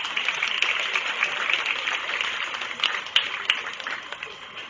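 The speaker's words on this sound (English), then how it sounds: "Let's give them all a nice round of applause as they head out." Spectators at a county fair goat show give a round of applause as the class exits, a sustained patter of clapping with a few sharper claps standing out.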